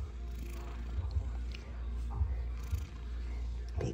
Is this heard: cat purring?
yes